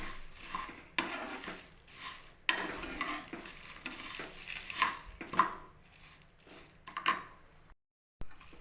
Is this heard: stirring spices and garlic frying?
yes